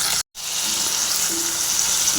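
Chopped tomato fries in a pan for ivy gourd chutney, a steady, close sizzling hiss with a brief cut near the start, and no talk over it.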